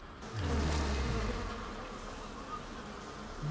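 A swarm of attacking bees in Bioshock gives off a dense, close, buzzing drone that swells loudly in the first second, then holds steady and slowly thins, with no talk over it.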